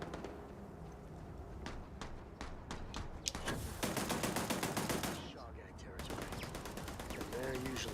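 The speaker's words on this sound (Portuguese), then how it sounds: "Esse tiroteio." Gunfire in a Starfield shootout: rapid bursts of automatic shots and single cracks, loud and continuous, with a voice talking over parts of it.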